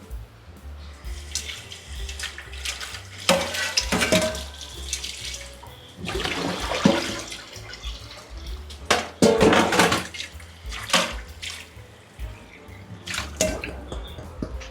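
A cooking pot is washed under a running kitchen tap, water splashing and rushing in bursts with clanks of the metal pot against the sink, close and fairly loud, with no talking.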